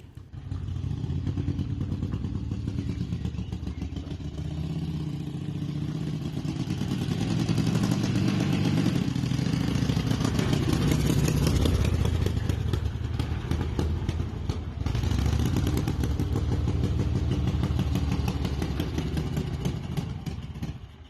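A Sokół 1000 motorcycle runs in old film footage, its engine giving a steady, loud, rough mechanical drone with clattering that swells slightly midway and holds for about twenty seconds, with no talking.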